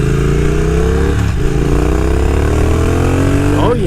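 A cafe racer motorcycle with a twin-cylinder engine revs close and loud, its steady throbbing note sliding and rising through the throttle, with a voice talking over it.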